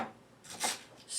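A kitchen knife slices through a stalk of celery on a cutting board, giving a few short, close scraping cuts that stand alone with no talking.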